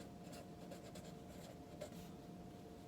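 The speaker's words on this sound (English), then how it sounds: "They want you to write on it, and we'll just put it right on the top of the box so no one can miss it" Pen writing on top of a cardboard shipping box for aerosol spray cans, faint scratchy strokes in short repeated bursts against a low steady hum.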